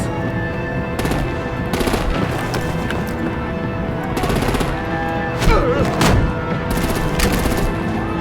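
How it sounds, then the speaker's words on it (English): Gunfire and artillery in a Telltale Batman game battle: repeated bursts of shots and heavy blasts punch through a continuous loud bed of combat noise and music, with no clear talk. "Break out the artillery and disable their vehicles!"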